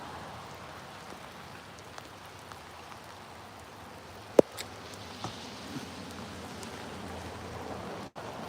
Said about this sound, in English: Well, we get drenched in the rain.